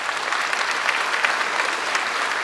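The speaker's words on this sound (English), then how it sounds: "Please, we need to clap about that." Crowd applause at a 2024 UC Davis School of Medicine commencement ceremony, a dense, steady wash of many hands clapping at once, sustained and fairly loud without talk over it.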